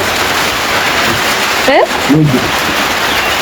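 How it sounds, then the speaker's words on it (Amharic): Steady rain hisses throughout, dense and close, with a couple of brief tonal chirps cutting through near the middle. "እዚህ ጋር ግን እኮ ይዘንባል።"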